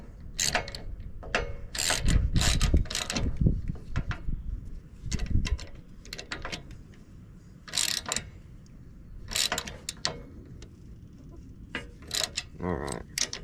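A hand ratchet clicks in short bursts as it tightens down a mounting bracket for a discharge chute on a Grasshopper midmount mower, with close, crisp repeated clicks separated by pauses.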